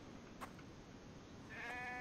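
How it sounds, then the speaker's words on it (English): A sheep bleats in the video game The Infected, a short, faint wavering call over quiet background ambience near the end. "That sounds like a sheep to me"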